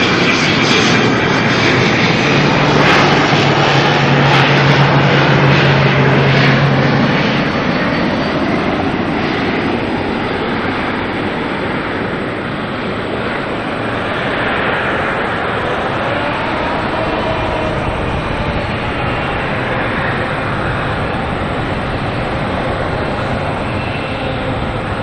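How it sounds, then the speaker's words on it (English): ATR turboprop airliner arriving at Auckland Airport from Palmerston North: a loud, sustained engine and propeller drone with a low whine, strongest early and easing slightly as it passes, no talk over it. "There is an ATR coming in from Palmerston North."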